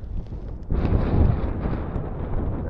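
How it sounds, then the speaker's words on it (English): Gusting wind buffets the microphone beside a park lake during feeder fishing for bream, a sudden rush of low, rumbling noise swelling in and holding steady. "Every time I've got to cast out, the blooming wind gets up."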